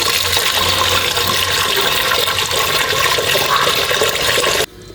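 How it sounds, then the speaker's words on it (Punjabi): Water gushes steadily and loudly into a household vessel, filled for washing a turban, a constant rushing pour that stops abruptly at the end with no talk over it. "ਇਹਦੇ ਲਈ ਆਪਾਂ ਇੱਕ ਭਾਂਡੇ ਦੇ ਵਿੱਚ ਪਾਣੀ ਭਰ ਲੈਂਦੇ ਹਾਂ"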